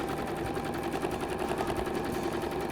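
Sewing machine top stitching a fabric cap, a quiet rapid stitching patter running continuously at close range with no talk.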